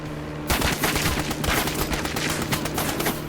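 Rapid sustained gunfire from an attacking aircraft in a video game, a dense continuous burst that starts abruptly and stays loud and close throughout.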